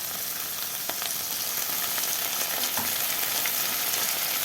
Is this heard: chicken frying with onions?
yes